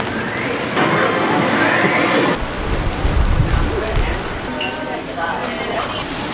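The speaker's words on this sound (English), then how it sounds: "Oh, it's rain." Rain falling on a gloomy day in Tokyo, Japan, a continuous hissing patter that swells briefly midway, fairly close and steady throughout.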